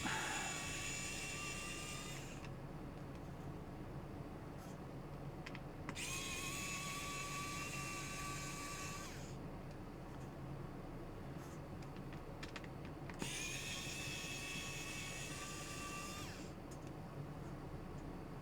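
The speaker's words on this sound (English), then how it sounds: "Get the rest of these screws out." A Nintendo Switch console is taken apart, with three long bursts of an electric screwdriver whirring close by as screws come out, quiet pauses between them and faint small clicks.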